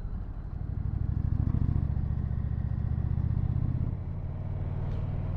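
An Indian Challenger motorcycle engine rumbles steadily at about 1,600 to 1,700 rpm while riding, a deep throbbing pulse that swells slightly then eases off.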